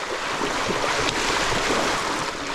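Mountain bike ploughing through a rocky water crossing on a trail ride out from Dolgellau, a steady loud wash of splashing and rushing water with wind buffeting the mic, no speech.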